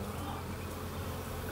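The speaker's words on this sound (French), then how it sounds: "c'est quand même super sympa de quand les abeilles ont une activité pareille" Honeybees buzz steadily and densely at a hive entrance in warm weather, a close, continuous drone with no pauses.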